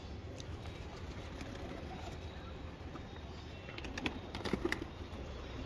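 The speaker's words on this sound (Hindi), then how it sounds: "सब उड़ता हुआ कबूतर है दोस्तों" Pigeons coo softly and intermittently among a flock of flying pigeons, faint and somewhat distant over a steady low background, with a few sharp taps near the end.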